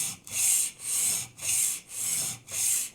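A knife blade drawn in steady back-and-forth strokes over a sharpening stone, working the section near the heel: five even, close rasping passes with short pauses between, loud and alone.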